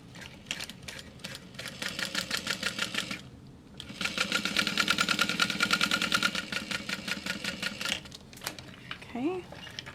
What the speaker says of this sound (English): I'm gonna sew across the bottom.